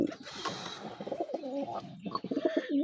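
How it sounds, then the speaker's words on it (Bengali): Pigeons coo in low, repeated throaty bursts close by, with some faint chirps and rustling around them and no talk. "ভিতরে এত ভয়ঙ্কর একটা কবুতর দেখেন"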